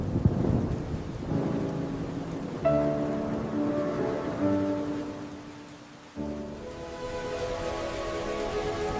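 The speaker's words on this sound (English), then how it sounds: "The rain feels peaceful today." Heavy rain falls steadily on a surface while thunder rumbles through a storm, with low tonal music playing over the downpour throughout.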